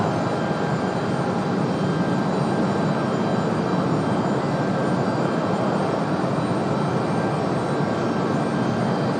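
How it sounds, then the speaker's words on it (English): Frontier Airbus A320neo jet on approach to Raleigh Durham International, a steady, loud broadband engine roar with a faint whine that holds without a break throughout. "Got another Frontier coming this way."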